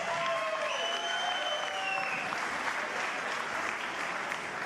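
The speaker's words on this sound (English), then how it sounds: "how about another round of applause for these warriors?" A boxing crowd applauds the fighters after a four-round bout, steady dense clapping throughout with a faint overlapping tone from a voice or the arena sound system early on.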